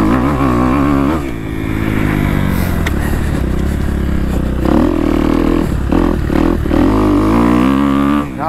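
A motorcycle engine on a racetrack with a broken inner clutch cover revs hard near the microphone, its pitch repeatedly cut and rising again as the throttle is chopped, with rough clattering changes in tone throughout.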